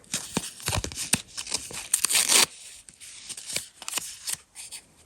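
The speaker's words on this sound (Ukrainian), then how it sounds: "Ось наш пакетик. Відкриваємо." Crisp paper rustling and tearing up close as a paper surprise packet is opened, a run of quick crinkles and rips with a louder tear in the middle, no speech.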